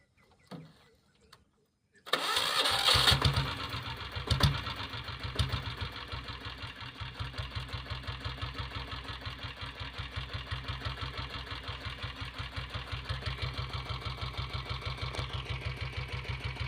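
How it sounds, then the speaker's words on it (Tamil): A diesel Bullet motorcycle engine starts after a short quiet moment, then settles into a steady, fast, evenly thumping idle, close and moderately loud, continuing without interruption to the end. "இப்போ வண்டி ஸ்டார்ட் பண்ணி பார்க்கலாம்"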